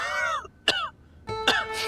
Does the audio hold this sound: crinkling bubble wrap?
no